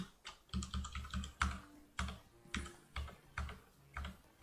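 Keys clatter on a computer keyboard as a developer works on the interface of an Unreal Engine MMO, producing quick clusters of crisp close clicks in an uneven, repeating rhythm.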